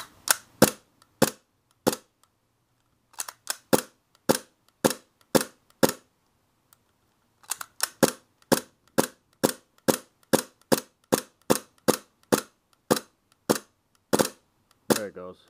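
A Smith & Wesson M&P airsoft pistol being dry fired gives crisp, close trigger snaps in a steady rhythm, about one per half second, with a short pause partway through and no talk.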